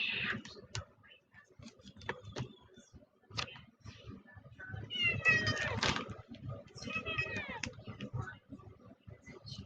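A cat meowing for treats, several close high drawn-out meows with faint clicking and tapping around them, a quiet voice murmuring in between.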